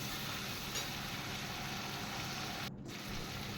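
Sesame seeds frying in oil for a tile-doi parshe fish dish, giving a steady, close sizzle that holds evenly throughout, with one brief dropout near the end and no talking.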